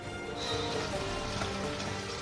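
Heavy rain pours steadily onto surfaces in Ramban, Jammu and Kashmir, a dense, even hiss of falling water with no voices.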